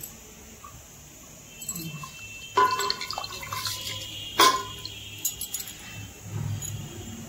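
Rice tipped into a pot of water for boiling in a home kitchen, heard as two brief, light splashing rattles over a quiet background with faint drips.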